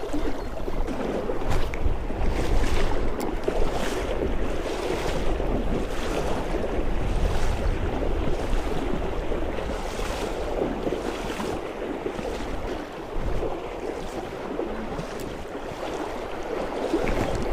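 A strong, steady wind of around 30–35 km/h buffets the microphone beside a large clear river, a continuous rushing roar with gusty swells and splashing water beneath, and no voices.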